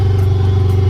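Steady engine drone from a 2019 John Deere Gator XUV590M S4 utility vehicle with a rebuilt CVT, running in high gear and two-wheel drive; a constant low hum with a tonal band, close and fairly loud, with no voices.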